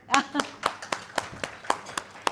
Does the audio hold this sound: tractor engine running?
no